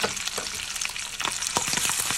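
Duck organ meat and bacon brown in butter in a pan, a close, busy crackling sizzle with rapid spitting pops throughout.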